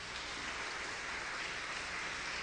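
Church congregation clapping together in a steady, dense patter that sounds somewhat distant and even, with no speech over it.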